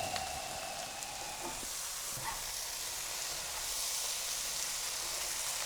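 Mustard potatoes fry over high heat in a pan, a steady close sizzle and hiss that runs unbroken throughout, with faint scrapes near the start.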